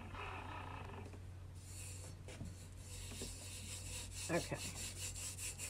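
Glitter rubbed by hand into a tumbler: soft, scratchy rubbing strokes come and go over a steady low hum, with a brief spoken word.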